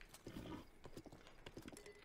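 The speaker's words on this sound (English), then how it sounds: "That was a very quick ride on the horse." Horse hooves clip-clop in a quick galloping rhythm in the Zelda Breath of the Wild video game, faint and brief with no talk.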